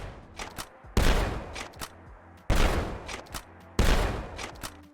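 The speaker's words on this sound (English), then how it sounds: "there's even animations for shooting it while aiming down sights" Gunshots from a modded video game weapon fired while aiming down sights: three loud, sharp reports at a steady spacing, each with a brief tail and quieter game sounds in between.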